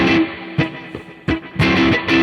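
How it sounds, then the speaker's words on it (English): Funk blues electric guitar chords struck in short, punchy stabs, several hard-hitting hits in a choppy rhythm with brief muted gaps between, loud and close with no voices. "this gives you really a hard-hitting chord structure and really hard-hitting chord sound"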